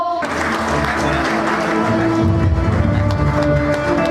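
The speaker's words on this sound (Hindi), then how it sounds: "Demanding a huge round of applause for Mr. Bhushan Singh." An audience at a digital awareness program event applauds a guest, a continuous crowd clapping under loud music with sustained tones, steady and close throughout.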